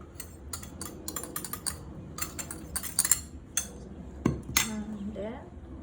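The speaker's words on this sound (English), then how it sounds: "Put everything in a mixing bowl, all the flour," Light clinks and taps of utensils and a mixing bowl as flour and dry ingredients go in together for a Thai clam pancake batter; scattered close, quiet knocks with some faint background noise and brief speech.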